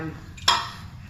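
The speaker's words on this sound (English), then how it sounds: "I'll crack it and I'll pop it in the" Egg cracked against the rim of a mixer bowl while baking chocolate macarons, a single brief sharp crack at low volume, heard close by with no talk over it.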